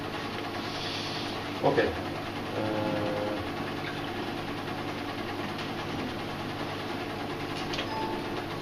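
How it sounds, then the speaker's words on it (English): A brushless motor turning an alternator shaft in a smart grid lab setup gives a steady, even mechanical hum with faint whine, constant throughout at moderate level under a man's speech. "This is the power that the brushless need to move the shaft of the alternator."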